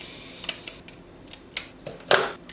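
Scissors snip through a cooked crab's shell at a casual seafood meal: a few sharp, close cuts spaced irregularly, the last one loudest, with no talking.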